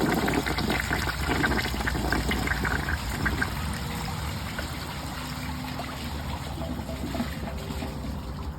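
A 1968 American Standard Cadet toilet flushes a washcloth and a grocery bag, giving a steady rushing, trickling wash of water close by that holds for several seconds before easing slightly, with no talking.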